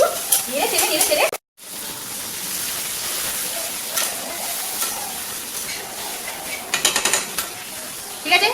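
Spices with cumin powder fry in a pan and are stirred, a close, steady sizzle with scraping stirs and brief clattering, interrupted by a short silent gap.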